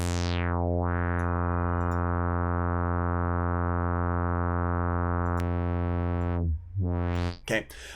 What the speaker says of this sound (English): And if you change the different filter types,